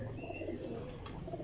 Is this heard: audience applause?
no